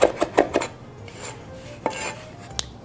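A knife chops food on a cutting board in a quick burst of four close, sharp strikes, followed by a couple of scattered scraping clicks, with no talking.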